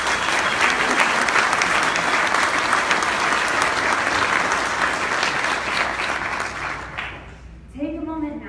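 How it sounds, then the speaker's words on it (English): Audience applause at a Small Business of the Year 2018 award event: loud, dense clapping held steady for about seven seconds, then thinning out as a brief voice comes through at the end. "so big round of applause."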